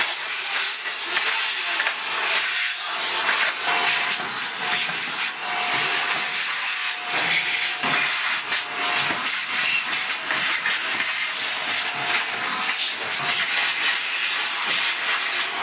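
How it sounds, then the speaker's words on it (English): A hoover vacuum cleaner running steadily while cleaning out a wood cook stove, a loud continuous hissing whoosh with slight fluctuations as the nozzle moves, alone without talk. "we're going to give it a final good clean with the hoover"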